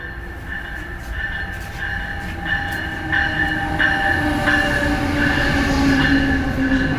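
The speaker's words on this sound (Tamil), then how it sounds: "நம்ம வாஷிங்டன் போகிறது இந்த ட்ரெயின் தான், ஆம்ட்ராக்." An Amtrak train at a station, with a steady rumbling rail drone and rising metallic tones as it arrives, close and fairly loud throughout without talk.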